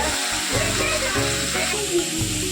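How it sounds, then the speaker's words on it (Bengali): Water spinach (kalmi shak) sizzles steadily as it fries in a pan in a home kitchen, a soft constant crackle under people talking, with children's voices in the background. "এটা কলমি শাক ভাজা হচ্ছে"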